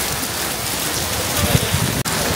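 Steady rain falls at Wat Pho temple in Bangkok, a loud continuous hiss of drops with a few heavier spatters near the end.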